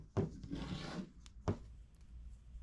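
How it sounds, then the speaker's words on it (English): Wire cutters snip through a flow monitor wire during installation of a constant hot water module, giving two faint, quiet clicks about a second apart against a soft background. "Start by cutting the flow monitor wire right in the middle."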